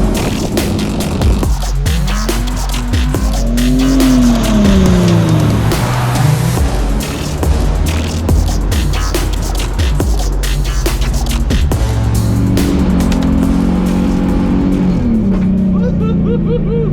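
A car drifting on a track, with a loud engine revving and swooping in pitch, tires squealing in long sweeps, and a person talking over the rough, roaring drive.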